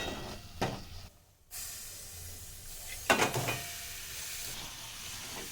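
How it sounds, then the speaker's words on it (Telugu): Marinated chicken pieces hitting hot oil with masala for a Mughlai chicken curry, giving a broad steady sizzle with a sharp burst near the start and a stronger crackling surge about halfway through, close and without talk. "ఇప్పుడు మనం మ్యాగ్నేట్ చేసి పెట్టుకున్న చికెన్ వేద్దాం"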